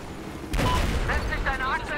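Gunfire and combat noise in Battlefield 4 multiplayer with an enemy helicopter nearby, a loud burst of shots and booms starting abruptly partway through, with someone talking over it.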